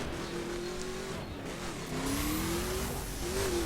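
A car with an 8-gear automatic gearbox drives an off-road faction mission in The Crew, its engine droning steadily and rising and falling in pitch, with a faint tire squeal near the end.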